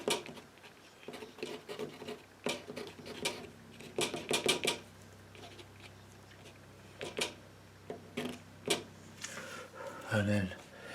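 A card scrapes wet paint across watercolour paper to form rocks, making short, scratchy strokes in irregular bursts. The scraping is close and fairly quiet, with quiet stretches between bursts and a voice speaking near the end.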